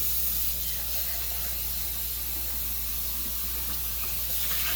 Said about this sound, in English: Pour out that water there.